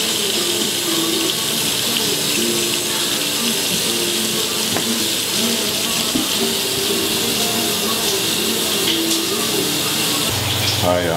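Shower water running steadily and loudly at close range, a continuous hissing spray that fills the whole stretch without a break.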